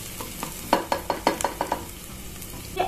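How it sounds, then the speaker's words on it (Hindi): Onions frying with garlic ginger paste in a pan give a soft sizzle, broken by a quick run of sharp scraping stirs partway through, with no voices. "अब इसमें हम लहसुन अदरक का पेस्ट डालेंगे।"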